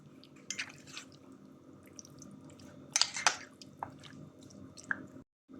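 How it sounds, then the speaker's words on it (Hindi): Wet squishing and soft slapping as hands mix marinated chicken with a teaspoon of salt for tandoori chicken tikka masala, close and quiet, with a few sharper sticky squelches and no talking. "अब हम चिकन को अच्छी तरह से मिक्स कर लेंगे।"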